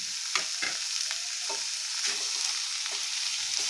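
Banana stem stirred in a pan with garlic as it fries, a steady close sizzle broken by several sharp scraping strokes of the spatula at an uneven pace, with no voices.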